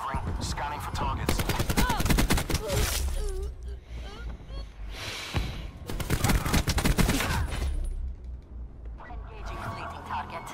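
Heavy automatic gunfire and shattering impacts in Black Ops 4 gameplay, loud sustained bursts with a short lull in the middle, mixed with game voices speaking over the shooting.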